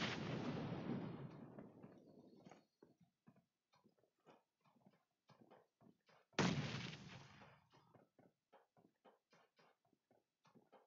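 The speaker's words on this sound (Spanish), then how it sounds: "Voy a tirar una granada ahí donde ha marcado el compi" Two loud, booming grenade blasts in an online shooter game, each a sudden burst that decays over a couple of seconds, followed by scattered quick clicks and small game noises, with no talk.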